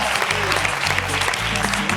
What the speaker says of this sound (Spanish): Así es que pido una fuerte aplauso.